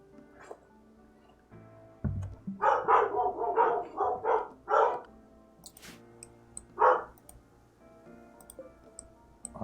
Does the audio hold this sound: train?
no